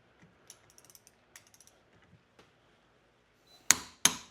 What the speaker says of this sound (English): total accuracy on an ancient, cheap torque wrench